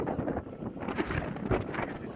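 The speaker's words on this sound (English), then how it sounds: "just a little bit windy." Wind gusts buffet an anchored boat, rumbling and pushing against the microphone in uneven, fluctuating bursts that rise and fall throughout.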